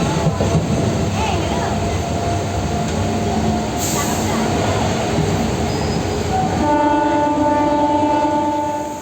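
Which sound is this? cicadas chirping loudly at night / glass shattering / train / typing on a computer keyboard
train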